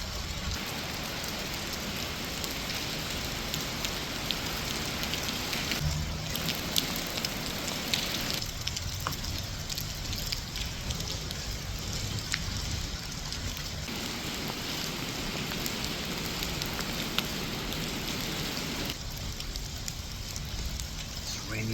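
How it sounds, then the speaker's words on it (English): Heavy rain pours down on a parking lot as a dense, continuous hiss that barely changes in loudness, with a few brief shifts in texture along the way. "It's raining like crazy."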